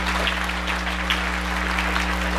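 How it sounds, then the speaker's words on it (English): Conference audience applauding hotel staff during a keynote, a steady dense wash of clapping with a constant low hum underneath, no voices. "Can we all give them a nice big round of applause?"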